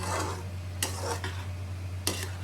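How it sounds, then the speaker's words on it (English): A mixture cooks in a pan on a home stove in India, a steady close sizzle under a low hum, with two sharp clinks of a utensil against the pan. "So same pan, mum's mixed the thingy, and now we're going to cook it."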